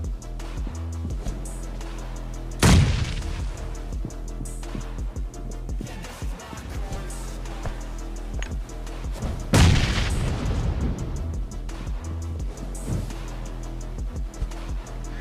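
Grenade explosions in the mobile battle game BGMI: two loud booming blasts about seven seconds apart, each with a long rumbling tail, over steady in-game background noise and scattered gunfire.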